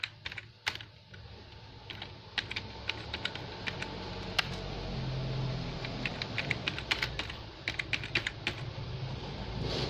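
Text is typed on a computer keyboard, with quick, uneven runs of sharp key clicks and taps over a continuous background hiss, close and clear, with no talking.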